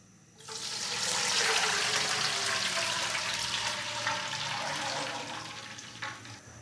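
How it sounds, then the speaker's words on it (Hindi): Water is poured in a steady rush into a pot of roasted cardamom and fennel for jaggery rice, a close sizzling and splashing that begins abruptly and continues with a little clatter near the end. "तो अभी मैं इसके अंदर 5 गिलास पानी डाल दूंगा।"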